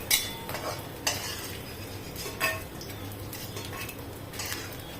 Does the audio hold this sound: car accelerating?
no